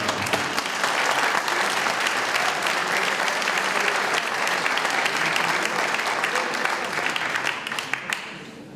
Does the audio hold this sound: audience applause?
yes